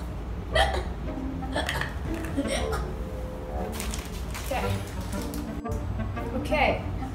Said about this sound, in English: I think he gave me the hiccups.